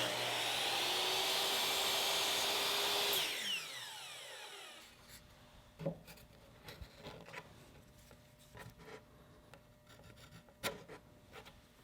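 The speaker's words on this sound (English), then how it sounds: "I'll cut a 45-degree angle on one end of the bead molding" A power saw cuts a 45-degree angle through wooden bead molding with a loud, steady whine that winds down after about three seconds, followed by quieter scattered taps and handling clatter in a workshop.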